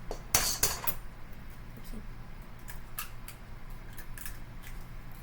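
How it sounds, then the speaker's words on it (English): Two eggs cracked into waffle or pancake batter: a couple of sharp shell cracks and clinks near the start, then quiet faint kitchen handling noise. "So we're gonna crack 2 eggs"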